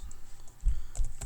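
Quick taps on a computer keyboard while entering a web search, a short burst of close, crisp key clicks with no talking.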